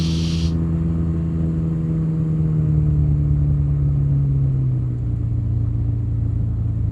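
Engine of a Quicksilver GT500 ultralight aircraft in flight, a loud steady drone whose pitch drops as the throttle is pulled back toward idle, with constant wind and engine rumble throughout.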